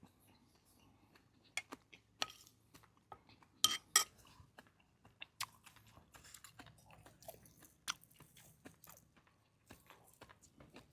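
People eat a Thai meal of bitter gourd and liver dishes, with scattered close crunchy chewing, bites and occasional clinks of cutlery on dishes, quiet and irregular with long gaps and no talk.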